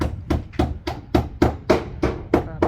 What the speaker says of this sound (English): I hear a hammer.